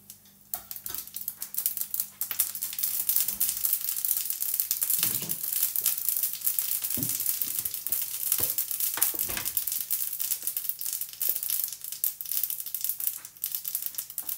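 Mustard seeds crackle and sizzle in a little hot oil as tempering for a coconut-free hotel-style chutney, giving a steady dense frying hiss with sharper pops and spits scattered through it, close and fairly loud, with no one talking.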